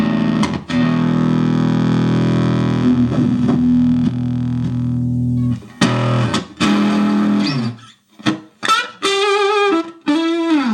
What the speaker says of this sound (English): You can actually turn up the gain on it and use it as a kind of distortion or overdrive.